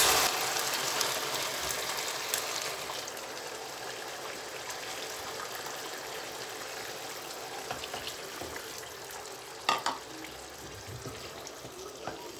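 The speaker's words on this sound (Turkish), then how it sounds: "iyice kavrulmuş olan pirincimizin üzerine sıcak suyumuzu ekliyoruz" Hot water being poured into a pot of toasted rice, a steady hiss and gushing pour that fades to a soft trickle, with a couple of sharp clinks near the end and no speech.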